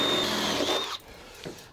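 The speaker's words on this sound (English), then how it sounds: "I've got the bigger drill, which is the 12mm. I'm going to open out that hole." A 12mm bit in a power drill grinds through the metal panel of a Transit Custom van, enlarging a hole. A steady close whine runs for about a second, then stops abruptly, and a few faint clicks follow.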